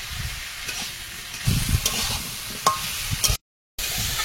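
Green chili and tomato frying with raw banana in a wok, a steady close sizzle broken by scraping stirs and a few sharp clinks, then a brief dropout before the hiss resumes.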